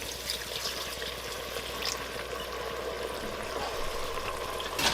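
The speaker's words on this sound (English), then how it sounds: "We're going to pour the wine in." Red Cabernet Sauvignon wine is poured into a hot pan to deglaze it for a vegan spaghetti sauce, giving a soft, steady trickling pour with faint sizzle and no talking.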